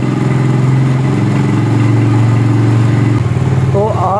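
A loud motorcycle engine with a loud silencer runs close by, its deep exhaust note rising slightly as it is revved during petrol setting, with a brief voice at the end.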